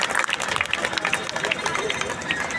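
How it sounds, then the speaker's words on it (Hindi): Crowd applause welcoming a poet at a Makar Sankranti and Vasant Panchami festival gathering, a dense, steady wash of many hands clapping close by, with crowd murmur mixed in. "जोरदार तालियों से इनका स्वागत करें"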